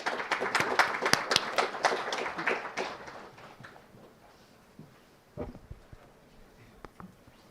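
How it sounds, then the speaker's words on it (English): Conference audience applauding at the start of a morning session on AI incident monitoring, with dense clapping for about three seconds that thins out and fades, leaving scattered claps and faint room noise. "let's give a round of applause"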